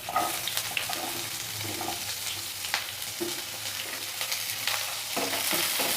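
Steady sizzling and crackling of small onions frying in a hot pan, with occasional stirring scrapes, continuous and close.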